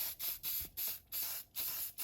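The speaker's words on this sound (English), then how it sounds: "we're just going to give it a quick tickle with a little bit of our fixative spray and carry on" Fixative spray misted over dirt terrain on a model railway engine-shed layout, heard as five or six short hissing bursts in a steady rhythm with brief gaps between them. Each burst is close and fairly quiet, with no talking.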